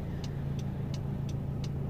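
A big truck creeps along slowly in traffic, its low steady engine rumble and drone holding constant and close throughout, with faint repeated high ticks above.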